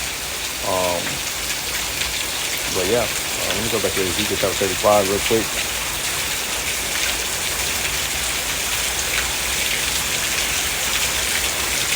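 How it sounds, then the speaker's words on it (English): Steady rain hisses and patters throughout, loud and close, while someone speaks briefly over it. "it's raining again"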